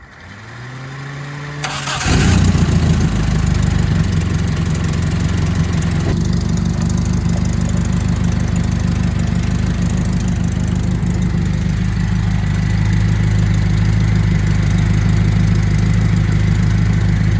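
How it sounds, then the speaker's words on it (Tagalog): A Toyota AE92 engine cranks and fires up, then settles into a loud, steady idle close by for the rest of the clip, with no talking, during a radiator flush. "So ngayon, papaandarin mo natin yung kotse ng mga 5 to 15 minutes para umikot yung tubig."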